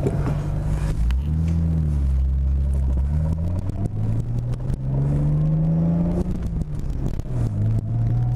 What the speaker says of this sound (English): Car is literally so much louder than mine that I cannot hear my own.